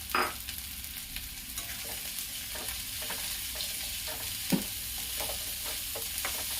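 Carrots and beans sautéing with onion in a pan for a moong dal chilla, a steady broadband sizzle with scattered stirring scrapes and one sharper clatter midway, close and fairly quiet, no voices.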